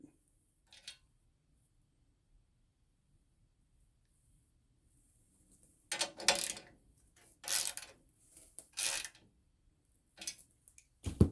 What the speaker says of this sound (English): I can't use both ratchets at the same time. Start off with the 1/4" drive.